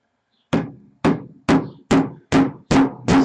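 A metal hammer taps pins into a bike chain jockey gear sprocket, giving seven sharp, loud strikes at a steady, slightly quickening pace, each ringing briefly before dying away, alone without voices.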